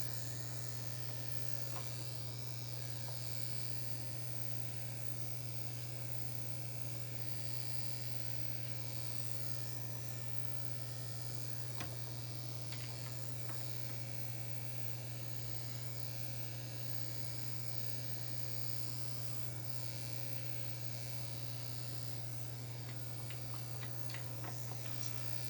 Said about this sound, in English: Just taking the clippers right along the neckline